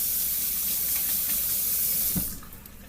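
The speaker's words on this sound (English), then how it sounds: "just rinsed them, didn't really wash them" Tap water runs steadily into a kitchen sink as hands are rinsed during spaghetti-and-meatball prep, a close, even rush of water that cuts off near the end.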